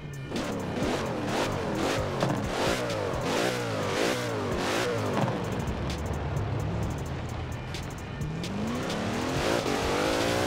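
A 981-horsepower SRT Durango SUV on thick off-road tires in Forza Horizon 4, its engine revving hard through repeated up-and-down gear sweeps, loud and close, ending in a long rising pull.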